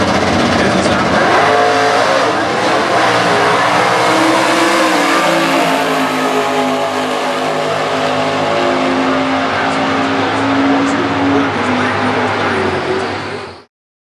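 Factory Stock Showdown drag race cars roar loudly off the line at a stock eliminator drag strip, engines revving hard in a sustained, dense blast that holds steady before cutting off abruptly.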